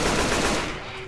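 A rapid burst of automatic gunfire rattles out in the Left 4 Dead 2 video game, loud and dense, then trails off within about a second.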